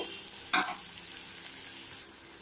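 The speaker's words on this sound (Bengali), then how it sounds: "পেঁয়াজটাকে এবার আমি একটু ফ্রাই করে নেব" Finely chopped onion fries in hot oil with a steady bright sizzle. A brief stir or clatter stands out early, and the hiss eases slightly near the end.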